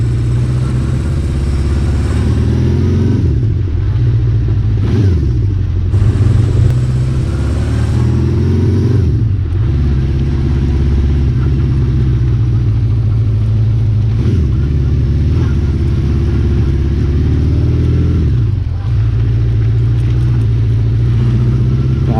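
A classic Honda CB550 K3 four-cylinder motorcycle runs loud and close with a steady low engine drone. Periodic rises and falls in pitch sound like gear changes while riding, and faint wind noise sits underneath.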